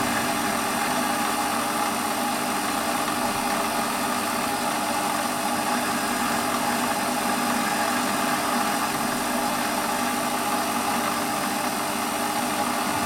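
Warco metal lathe turning a workpiece held gently in the chuck, taking 0.2 mm light cuts; a steady, constant motor hum with broadband whirr runs throughout at even loudness, no talk.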